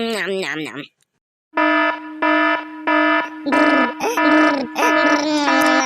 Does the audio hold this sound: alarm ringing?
yes